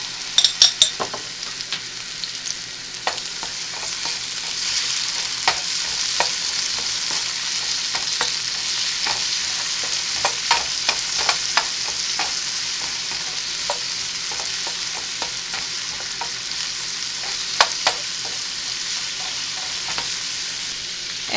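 Garlic sizzles steadily in hot oil in a pan while a utensil scrapes and stirs it in sharp, irregular clicks, close and fairly loud, with no voices.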